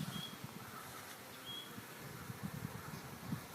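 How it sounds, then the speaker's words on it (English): Bees buzz at a hive, a faint, steady hum with a few louder passes close by and a high thin whine now and then. "Mandy had some bees in her hive already"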